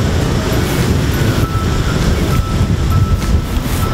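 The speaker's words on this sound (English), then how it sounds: "Pretty windy." Strong wind blows across an open, exposed spot at an off-grid campsite, a loud continuous rushing roar buffeting close to the microphone throughout.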